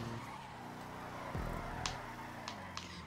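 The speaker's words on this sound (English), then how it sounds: "Whoa, why have I spun out?" A car spinning out during a GTA 5 race, engine drone dropping as tires skid, followed by a few sharp clicks and squeaks, fairly close over steady background noise.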